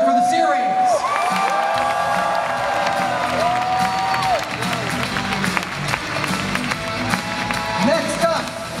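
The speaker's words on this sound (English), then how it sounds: "please first give a warm round of applause to Mike McFarland" A convention panel crowd at New York Comic Con applauds and cheers for a voice director, with steady clapping, whoops and shouts throughout and voices rising over the noise.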